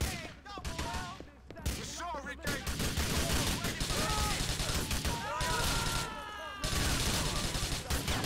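Gunfire rattles through Grand Theft Auto IV: The Ballad of Gay Tony, steady loud shooting layered with game sounds and a talking voice over much of the stretch.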